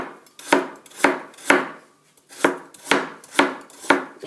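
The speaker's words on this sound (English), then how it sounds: "Then we cut the carrots." Carrots chopped with a knife on a cutting board: about eight crisp, evenly spaced strikes in a steady rhythm, close and clear with no talking.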